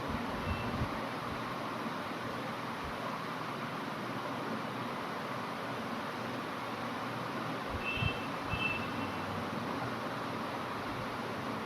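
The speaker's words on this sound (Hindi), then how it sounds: "ट्रैफिक बहुत ज़्यादा है गाइस" Busy street traffic in the narrow lanes of Vrindavan makes a steady, dense roar, and a vehicle's reversing beeper sounds faintly in short repeated beeps.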